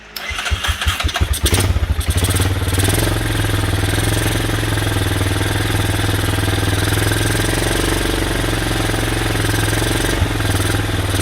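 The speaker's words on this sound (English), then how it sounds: "We're going to have to get it warm to see what it does actually at idle." Four-wheeler ATV engine with choke on cranking in quick bursts, catching after about two seconds, then settling into a loud, steady, close idle with a brief blip near the end.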